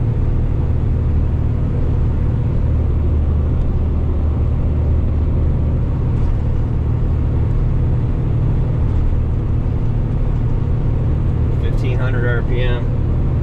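Heavy truck engine, a Kenworth T880 or Sterling L9500, pulling a heavy load uphill at full throttle in 14th gear, a loud steady low rumble and drone filling the cab throughout, with a brief voice near the end.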